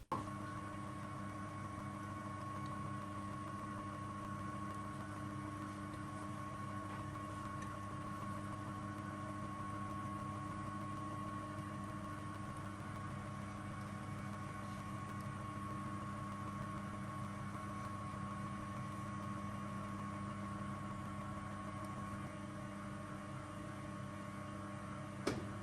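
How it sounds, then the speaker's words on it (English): A metal lathe turns slowly at 40 RPM while knurling a large-diameter workpiece. It gives off a steady, faint electrical hum with a constant tonal drone and no breaks. "I'm running the lathe at 40 RPM, as this is a relatively large diameter knurl."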